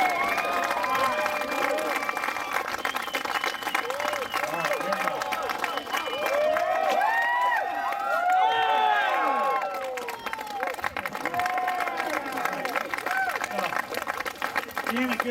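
An outdoor crowd at a bike trials demo in New Jersey claps and cheers loudly and steadily, with whoops and shouts rising in the middle over continuous applause.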